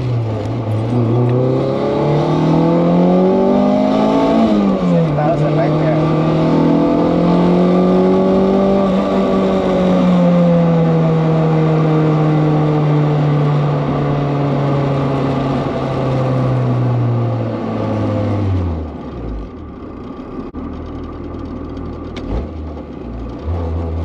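Car engine held at high RPM during an oil pressure test, a loud sustained drone that climbs and wavers in pitch, holds steady, then drops away as the revs fall near the end.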